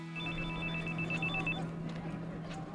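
A telephone rings indoors with a repeated electronic trill, fairly soft and steady, over a low background hum before fading out.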